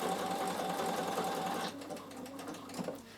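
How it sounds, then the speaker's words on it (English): A Bernina sewing machine stitches a fabric basket with a steady, close mechanical whir for about a second and a half, then stops, leaving quieter handling noise. "I'm just going to sew, and it will stitch 2 patterns and stop"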